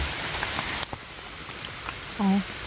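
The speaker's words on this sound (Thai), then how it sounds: "ฝนก็เริ่มรินมาอีกละจ้า" Rain begins falling again outdoors during mushroom foraging in a rural Thai forest, a soft steady patter of drops on surfaces with scattered taps, plus a brief low hum near the end.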